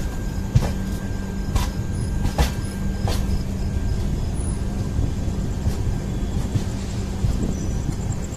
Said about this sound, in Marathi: राईट टाइम निघाली ट्रेन।